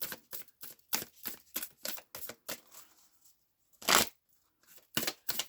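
Crisp bursts of riffling cards repeat in quick, separate shuffles, close and sharp, with a brief pause before a louder final riffle.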